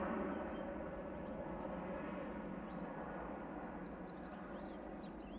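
A distant airliner departing Manchester Airport for Amsterdam, a steady broad engine roar that holds evenly throughout and eases slightly toward the end, with no talk over it.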